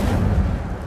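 An Incendio fire spell from Hogwarts Legacy, cast as a short, heavy burst with a booming, roaring rumble that rises and holds. No voices are heard.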